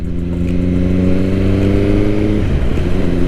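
A 2021 BMW S1000R motorcycle rides at low speed with its quick shifter, giving a loud, close, steady engine drone whose pitch shifts slightly toward the end. No one talks.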